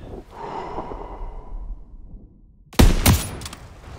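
Gunfire in Call of Duty WWII during the Battle of the Bulge, a sudden loud volley of shots cracking out after a stretch of quiet breathing and ambient sound, then fading.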